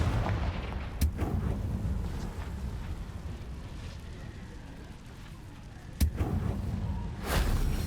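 A Confringo fire spell from Hogwarts Legacy goes off in two sharp blasts, one early and one near the end, each a punchy crack over a constant low rumble of game ambience, with a fiery whoosh closing.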